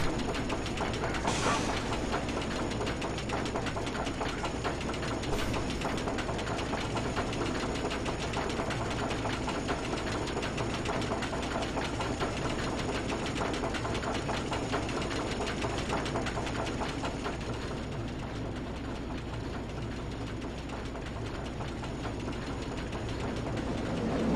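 A roller coaster test ride in a theme park video game gives a continuous, even mechanical rumble and rattle with a low hum, steady and unbroken for the whole stretch, with no voices.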